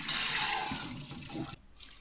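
Water rushes and drains from soaked, washed rice being prepared for wormwood makgeolli, a loud gushing burst that tapers off into gurgles and a brief final splash, heard up close without talk.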